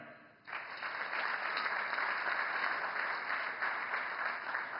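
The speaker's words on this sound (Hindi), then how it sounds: "बहुत बहुत तालियां" A crowd at an inauguration ceremony for the Indian Newspaper Society tower in Mumbai breaks into loud, steady applause that starts abruptly and holds evenly, with a faint electronic tone running underneath.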